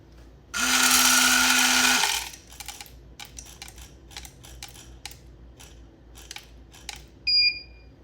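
A coffee grinder doses beans on a timer, buzzing loudly for about a second and a half before cutting off. Small clicks and rattles follow, then two short high beeps ring out near the end.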